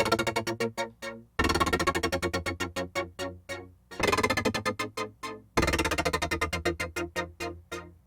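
Arturia OP-Xa V synth chord progression with effects applied: four chords chopped into rapid rhythmic stabs, each stab pumping and decaying in a steady pulse, loud and close, with brief gaps between chord changes.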